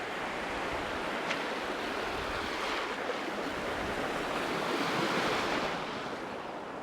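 Sea waves wash steadily onto the shore with a constant broad surf roar, moderately loud and close, with some wind and no voices.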